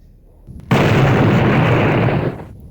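A loud video game explosion bursts in suddenly after a quiet lead-in, roaring as a dense sustained blast for over a second before cutting off and fading to low rumble.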